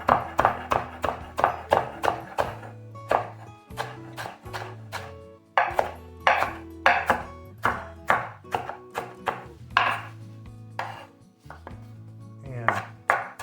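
A knife chops a bunch of fresh herbs on a cutting board for pico de gallo, with quick, close, rhythmic strokes in bursts separated by brief pauses.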